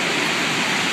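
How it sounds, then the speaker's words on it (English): Elk Falls, the waterfall just outside Campbell River, British Columbia, roars in a dense continuous rush of falling water, loud and steady, with no other sounds. "So this is Elk Falls,"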